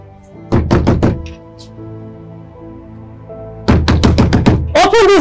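Someone pounds on a door in two loud, rapid bursts of knocks, close to the listener, with a sustained music bed running underneath.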